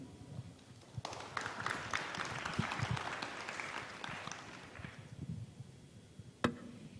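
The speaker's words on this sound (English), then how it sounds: "A big round of applause for our session" Applause from a conference audience at an APEC media focus group session swells after a quiet start, holds steady for several seconds, then fades, with a single sharp knock near the end.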